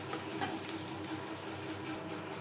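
Coconut frying in mustard oil gives a steady, close sizzle with light crackle and patter, continuous and fairly quiet, with no voices over it.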